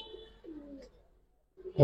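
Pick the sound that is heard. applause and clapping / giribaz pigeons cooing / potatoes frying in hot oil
giribaz pigeons cooing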